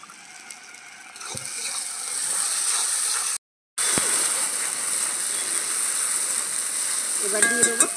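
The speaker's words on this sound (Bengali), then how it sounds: "একটু নাড়িয়ে চাড়িয়ে ভেজে নেব।" Lote fish fries on a traditional portable clay stove, a continuous sizzle broken by occasional scrapes and clinks of stirring and a short pause, with a rattling clatter near the end.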